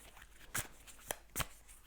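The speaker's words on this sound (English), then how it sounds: "I'm going to shuffle a little bit more" Soft riffling bursts of tarot cards being shuffled, three quick flurries in a row, close and fairly quiet.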